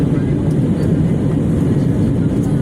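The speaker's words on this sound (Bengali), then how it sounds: "প্রচুর আওয়াজ হচ্ছে বিমানে, আমরা এখনও শব্দ পাচ্ছি।" Loud, steady engine roar fills an airplane cabin as the aircraft climbs after takeoff, a dense low rumble with no break.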